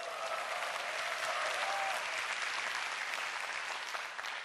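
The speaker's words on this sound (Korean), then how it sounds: "신혼여행 가는 사진입니다. 박수." Audience applause fills a lecture hall during a motivational talk, a dense, steady roar of many hands clapping that holds evenly for several seconds before easing slightly at the end.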